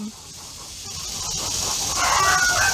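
Chickens on a colonial-era plantation farm, with a steady outdoor hiss of background ambience and clucking sounds that grow slightly louder toward the end; no talking.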